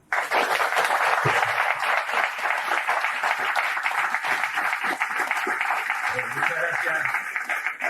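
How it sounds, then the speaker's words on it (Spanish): Audience clapping at a university conference in Argentina welcoming a speaker, a dense, sustained wash of applause that begins abruptly and holds steady, with murmured voices or speech faintly mixed in. "Le damos un fuerte aplauso"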